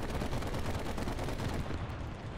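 Rapid tank gunfire in the War Thunder video game, a dense burst of loud, repeated shots rattling continuously for a couple of seconds before easing slightly.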